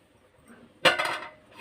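A lid clinks onto a cooking pot of gongura prawn curry, one sharp metallic contact followed by a brief rattle as it settles, close and clear in an otherwise quiet kitchen.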